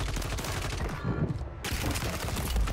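Rapid bursts of MP40 submachine gun fire in a first-person shooter video game, loud and dense, rattling continuously through the whole stretch with brief breaks between volleys.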